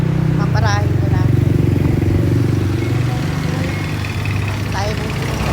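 A jeepney's engine idles and rumbles close by as it pulls up at a roadside stop in the Philippines, a steady mid-pitched drone with light clatter, and people speak over it.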